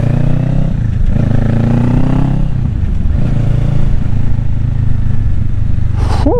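A Kawasaki Ninja 650 motorcycle's engine drones loudly and steadily as the bike rides, with brief swells in engine pitch and a chirp near the end. No one speaks.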